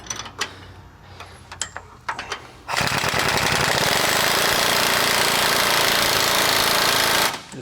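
A power tool drives a socket on the adjuster clamp bolt of a Jeep Wrangler JL track bar during a lift install, a few scattered clicks and taps, then a loud, steady, rapid hammering buzz for about five seconds before stopping.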